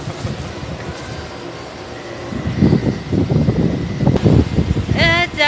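A train in Taiwan pulls away with a low, rumbling roar that swells and grows steadily louder, and a voice breaks in briefly at the very end.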